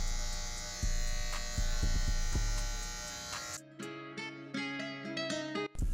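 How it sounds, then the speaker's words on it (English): Electric hair clippers fitted with a one guard, shaving close to the scalp during a low taper fade haircut: a steady loud buzz that suddenly changes pitch and texture midway, with brief dropouts as the blade is worked over the head. "we're gonna be using the one guard on our clippers"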